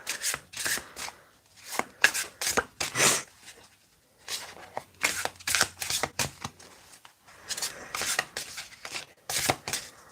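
Tarot cards being shuffled by hand in repeated bursts of riffling and rubbing, separated by short pauses, close and fairly clear with no speech.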